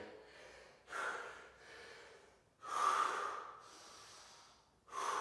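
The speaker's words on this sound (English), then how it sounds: "Take some deep breaths." Heavy, audible breathing after a youth parkour exercise workout at home, with three long, loud breaths and exhales following one another in slow, uneven waves.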